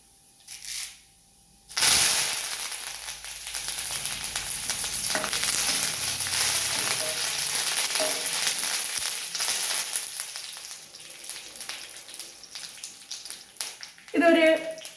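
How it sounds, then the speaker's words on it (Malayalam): Curry leaves hitting hot coconut oil with mustard and fenugreek seeds, a sudden loud sizzle that holds as a dense, steady frying hiss, fading a little toward the end with some clatter. "ആ ഉലുവ പൊട്ടിക്കഴിഞ്ഞ് കഴിയുമ്പോൾ ഒരു 4 കതിർപ്പ് കറിവേപ്പില"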